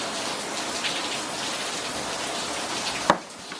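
Steady rain pours down outside, a dense continuous patter of drops and runoff water, with a sharp knock near the end.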